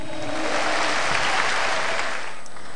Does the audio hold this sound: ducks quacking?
no